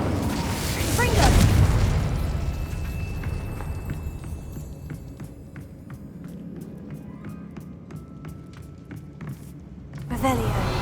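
A Confringo blasting spell in Hogwarts Legacy goes off with a loud, booming burst near the start, followed by crackling debris and scattered impacts. A second burst comes near the end over steady game ambience.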